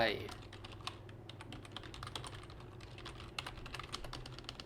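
Fast, light clicking of a computer keyboard as text is typed into a Google Form online questionnaire, a steady patter of close keystrokes throughout with quiet talk underneath.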